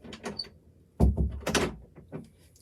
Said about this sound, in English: Just gonna shut this door here.